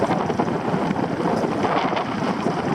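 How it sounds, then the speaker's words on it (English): Steady wind and choppy waves on Lake Keitele in Finland rush past a sailboat motoring with its mainsail down, a continuous loud broadband roar with microphone buffeting and no voices. "Then I saw the waves and the wind pick it up again."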